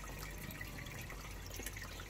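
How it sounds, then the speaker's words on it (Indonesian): A pump on a hydroponic rack runs while water flows steadily through the pipes, giving a continuous, even trickle and rush close by with no talking. "Kemudian pompanya saya nyalain."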